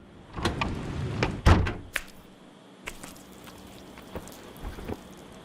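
Rain in an animated short film arrives as scattered close drops and sharp knocks over a soft steady wash, with one heavier thud partway through and no talk.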